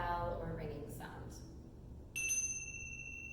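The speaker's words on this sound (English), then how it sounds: "you click the 2 cymbals together to make a bell or ringing sound" A single metallic clink of two tingsha cymbals struck together at about two seconds leaves two bright, high ringing tones that hold steady and sustain to the end, after some faint earlier noise.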